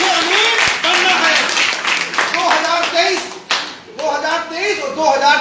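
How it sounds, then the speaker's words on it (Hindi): Audience at a company training program clapping loudly, brisk individual claps and bursts of applause close by, mixed with someone speaking energetically over them. "क्या बात, ताली जोरदार।"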